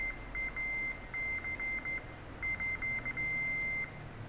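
Electrical continuity tester giving sharp, high electronic beeps while checking a mechanical keyboard switch, sounding in quick irregular bursts then one long sustained tone, close and fairly quiet over faint background hiss.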